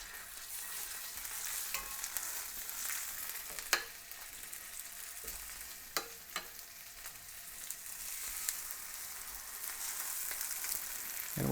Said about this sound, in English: We're going to brown them on all sides